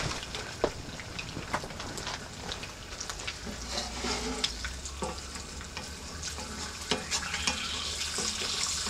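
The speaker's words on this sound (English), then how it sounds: "I'm gonna pop this other egg in the skillet here." An egg sizzles in hot grease in a skillet, a steady broadband frying hiss running throughout with small pops and clicks, close and fairly loud, with no talking.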